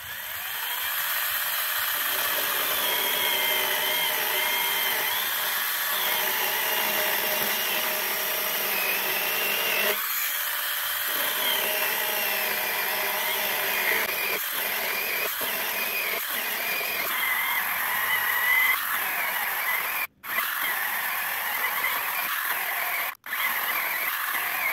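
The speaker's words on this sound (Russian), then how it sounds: "И пошли пилить доску." A BEVOR mini cordless chainsaw saws steadily through a 15 by 50 board, its motor whining continuously at close range with brief dips and stops near the end.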